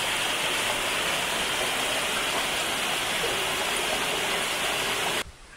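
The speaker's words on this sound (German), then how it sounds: "Man läuft einfach eine Treppe über so einen kleinen Wasserfall drunter eben." Steady, close rushing of a small waterfall on a mountain trail in Slovakia's Malá Fatra, a continuous broadband splash that holds even, then cuts off abruptly near the end.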